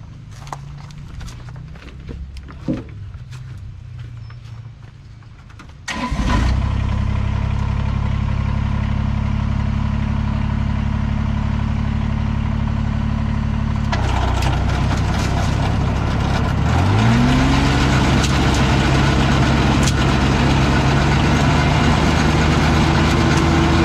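Leaf blower engine on a Trac Vac 854 leaf pickup starts after quiet handling sounds, then roars loudly and steadily close by, its pitch climbing partway through as the engine revs up and holds.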